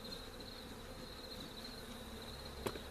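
Honeybees drone steadily around an opened wooden hive box, a continuous close buzz with a sharp knock near the end.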